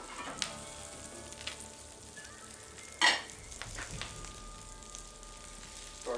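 Vegetables for wild turkey tacos sizzle in a hot pan, a faint, steady crackle with a brief louder burst and scattered clatter of utensils.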